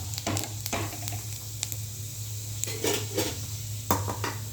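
Urad dal and mustard seeds frying in hot oil for a cabbage poriyal, a constant close sizzle with scattered sharp pops and crackles under a low hum.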